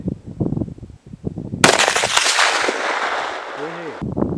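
Gunfire aimed at an old television set: a sudden loud, sharp blast followed by about two seconds of harsh, crackling noise, with someone talking before and after.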